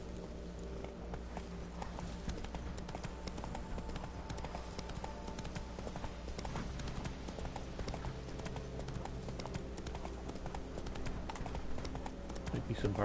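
Hoofbeats of Roach, the horse in The Witcher 3 video game, galloping in a steady rapid clip-clop rhythm, mixed with constant game music and ambience throughout.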